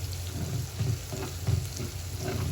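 Garlic, chili and curry leaves frying in a pan, a soft continuous sizzle with a few scraping stirs, close by and alone.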